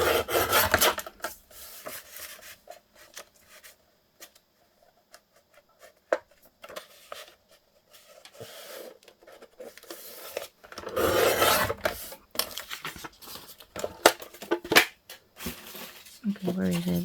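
Scissors cutting up a paper collage sheet at a craft desk, giving close rasping snips and rustles of paper in uneven bursts, with brief quiet gaps between passes.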